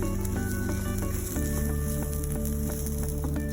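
Gram flour (besan) and corn sautéing in a pan over moderate heat, a continuous dense sizzle with soft scraping of stirring, steady and close, with no talk.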